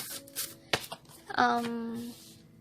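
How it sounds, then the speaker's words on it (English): Cards riffle and flap in a quick shuffle, with a brief voiced sound partway through. "So I will shuffle one more time."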